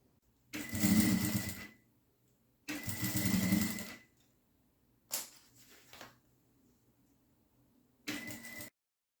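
A sewing machine stitches along the edge of a fabric organizer bag in four separate runs: two longer bursts of buzzing, then two shorter ones, each close and clear, with quiet pauses between them and no talking.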